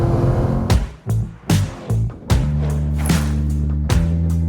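A 2020 Chevrolet Corvette C8 accelerating hard on a race track, loud engine roaring up through quick successive gear changes with sharp shift breaks, then holding a sustained high drone.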